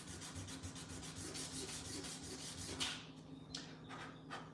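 Copper being sanded with 600 grit sandpaper, heard as a steady series of soft, rapid back-and-forth rubbing strokes at close range that stops briefly near the end, with no talking.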